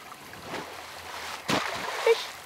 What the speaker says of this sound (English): we got goldfish jumping out of the water now